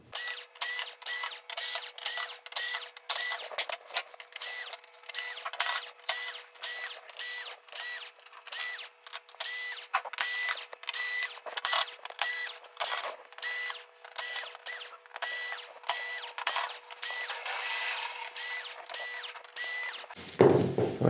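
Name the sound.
power drill removing screws from Toshiba TV back panel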